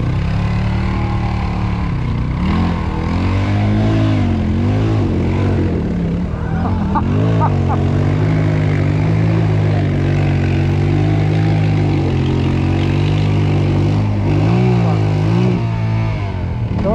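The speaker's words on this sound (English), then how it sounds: "Don't burn up the engine" An off-road vehicle's engine labors and revs while stuck on a backcountry trail in Washington, a loud continuous droning roar with rising and falling pitch, people talking over it.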